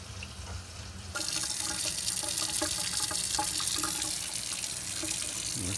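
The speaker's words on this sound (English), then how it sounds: "And I'll run the faucet and see if we get any drips." A Delta kitchen faucet turned on partway through, releasing a steady, close stream of running water into the sink after a quieter lead-in, with no voices.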